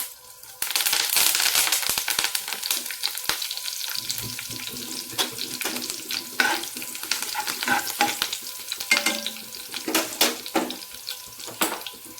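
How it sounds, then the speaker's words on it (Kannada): Mustard seeds, cumin and curry leaves crackle and sizzle in hot oil in a home kitchen, a busy popping hiss with sharp spits and clicks throughout, close and fairly loud. "ಎಣ್ಣೆ ಬಿಸಿಯಾಗಿದೆ, ಸಾಸಿವೆ ಹಾಕ್ಕೊಂಡಿದ್ದೀನಿ, ಹಾಗೆ ಜೀರಿಗೆ,"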